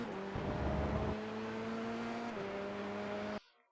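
An F3 open-wheel race car at full throttle on the Nürburgring GP circuit in the iRacing simulator, a steady loud engine drone that shifts pitch upward through a gear change before cutting off abruptly.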